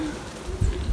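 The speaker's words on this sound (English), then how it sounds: "we have one rogue pigeon." A single pigeon gives a low, short coo close by in a South African homestead garden, heard alone with faint background.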